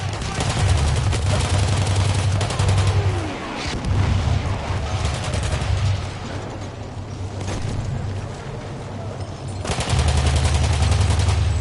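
Rapid gunfire and rocket blasts from a first-person shooter tournament match, loud continuous bursts of shots and explosions over a droning background, with a caster talking over parts of it.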